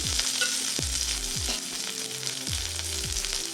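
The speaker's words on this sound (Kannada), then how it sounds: "ಒಗ್ಗರಣೆಗೆ ಬೆಳ್ಳುಳ್ಳಿ, ಕರಿಬೇವಿನ ಸೊಪ್ಪು ಹಾಗೂ ಹಸಿಮೆಣಸಿನಕಾಯಿ ಹಾಕ್ತಾಯಿದ್ದೀನಿ" Garlic, curry leaves and green chillies hit hot tempering oil for an ash gourd sambar, giving a strong, continuous close-up sizzle with several spattering bursts and no voices.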